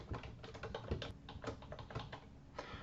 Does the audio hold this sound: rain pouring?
no